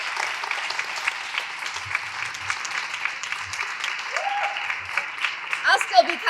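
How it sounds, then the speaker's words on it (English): A crowd at a women's roll of honor event claps warmly for the town supervisor, steady applause filling the room while voices and cheers rise through it toward the end. "let's have a big round of applause for our outstanding supervisor"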